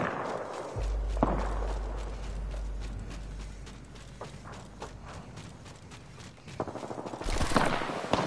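Gunfire in Apex Legends, with quick bursts of rapid shots and mechanical weapon clatter among footstep-like taps and low rumble, the firing fairly close and moderately loud.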